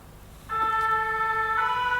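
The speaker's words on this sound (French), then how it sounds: "Ah, nos amis les pompiers qui passent." Fire engine siren sweeping past close by, a steady wailing tone that starts suddenly and holds loud over a low background rumble.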